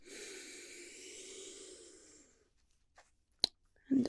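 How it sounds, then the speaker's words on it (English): A person draws in a long, slow, deep breath, a soft airy inhale lasting about two seconds, close and quiet, followed by a few faint clicks and rustles. "Breathe in."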